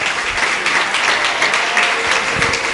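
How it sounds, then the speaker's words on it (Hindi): Loud, sustained applause from an audience at a gathering of Pakistani Hindus at Govardhan Math, a dense wash of clapping that holds steady throughout with no talk on top. "तो जोरदार तालियां पुनः।"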